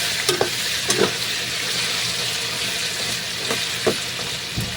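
Chicken necks frying in a pan until toasted, a steady sizzle broken by several sharp stirring scrapes and clacks of a utensil against the pan, close and alone.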